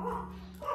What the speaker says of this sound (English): I have a barking dog